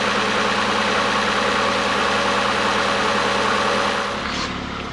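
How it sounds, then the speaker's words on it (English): A Ford Fiesta engine, freshly repaired after a blown head gasket, idles steadily and close by with a constant rumbling drone that eases slightly at the very end. "I'm just gonna let it idle"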